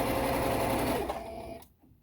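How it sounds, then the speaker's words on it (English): A sewing machine stitches through the layered fabric of a homemade face mask, running steadily and close by for about a second and a half before slowing to a stop. "And sew far enough in that you catch both materials well."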